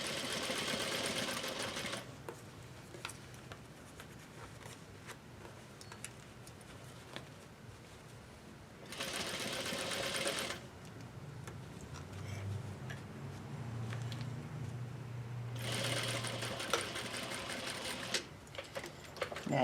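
A sewing machine stitches a new zipper into a pair of jeans in three short, fast bursts separated by quieter handling pauses, heard close and clear.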